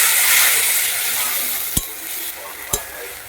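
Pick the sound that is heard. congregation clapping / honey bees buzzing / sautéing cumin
sautéing cumin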